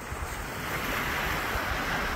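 North Sea surf rolls onto the beach at Britannia Pier, a continuous loud wash of breaking waves mixed with steady wind noise buffeting the microphone.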